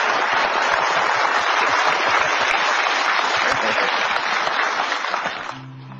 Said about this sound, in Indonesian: kita berikan aplaus yang paling meriah untuk Mustafa Bisri dalam puisinya